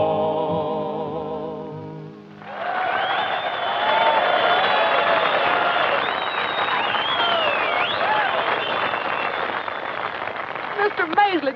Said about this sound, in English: Mr. Maisley, did you hear that crowd cheering?